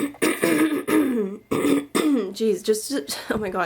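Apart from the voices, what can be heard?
throat clearing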